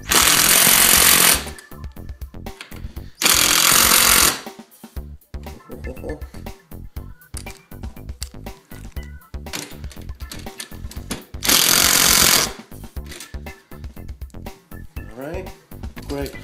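Power tool driving and tightening screws on a homemade folding laptop shelf, three loud close bursts of whirring, rattling drilling separated by pauses, with a person talking between the bursts.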